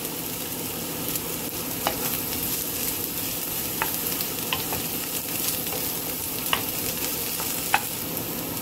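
Chopped garlic and red onion sautéing in a hot pan, a steady close sizzle and crackle with occasional sharp pops and stirring clicks throughout.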